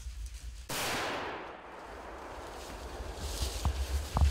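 A single loud muzzleloader shot fired at a buck during an Ohio deer drive, a sharp blast followed by a long, fading rumble, then faint rustling and thumps outdoors.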